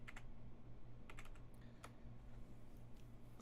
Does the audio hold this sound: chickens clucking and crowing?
no